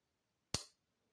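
Rough Rider Appaloosa Bone folding pocketknife with a Wharncliffe blade snapping shut, a single sharp, close click with a brief decay and silence around it.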